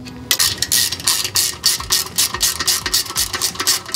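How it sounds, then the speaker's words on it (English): A torque wrench ratchets down the main cap bolts on a Toyota 2JZ engine block, rapid clicking pawl strokes in quick bursts with a brief pause, close and crisp in a quiet workshop. "and then we'll torque it down."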